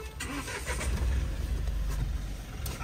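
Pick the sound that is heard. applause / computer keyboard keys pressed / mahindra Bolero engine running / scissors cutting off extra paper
mahindra Bolero engine running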